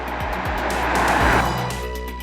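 A 2015 Mercedes-AMG C63 S engine and exhaust growl loudly and continuously near 7000 RPM, a full-throated roar swelling then easing slightly, heard up close.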